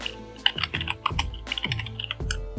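Text is typed into a textarea on a computer keyboard: quick irregular clicks and key taps, some louder strikes among lighter ones, close and fairly quiet, with no voice.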